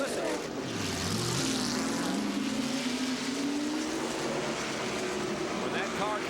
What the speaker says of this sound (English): he is in the car revving it